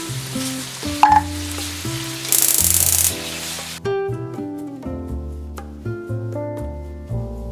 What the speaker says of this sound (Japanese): バター入れて巻いたお肉入れていきます。